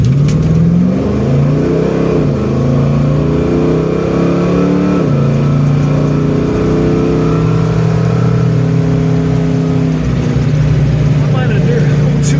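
Engine of a 1968 Buick GS 400 revs and pulls steadily while driving, rising and falling in pitch over a sustained loud drone, with talk over it.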